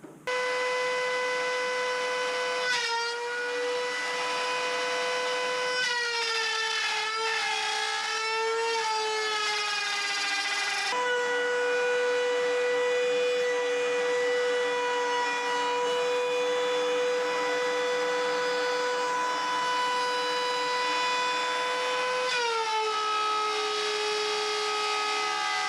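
Router cutting a small wooden piece for a SCAMP boat's yard, a loud steady high whine close by, its pitch dipping and rising as the wood is fed through, running continuously with no talk.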